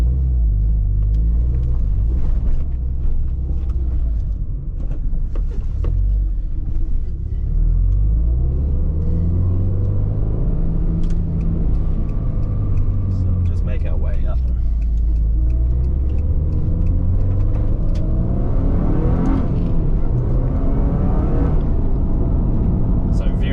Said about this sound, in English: It revs lovely.